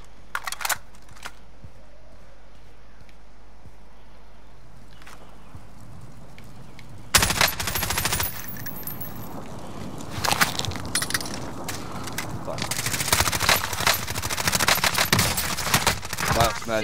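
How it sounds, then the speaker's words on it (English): Video game gunfire in a battle royale trios match: after a quiet stretch with scattered single shots, a sudden loud burst of rapid automatic fire breaks out, followed by sustained bursts and intermittent shooting. "Man, I'm taking fire!"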